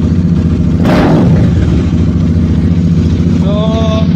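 A loud engine idles with a steady low rumble, then blips up in one sharp, brief rev before settling back; a voice is heard briefly near the end.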